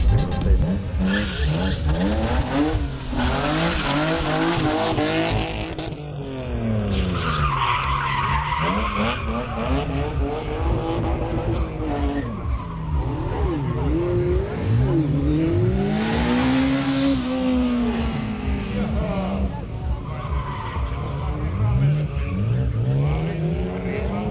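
Motorcycles drift on a race track, tyres squealing in long rising and falling whines along with revving engines, loud and continuous throughout.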